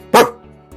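A person imitates a dog with a single short, loud bark, followed by a faint second yelp.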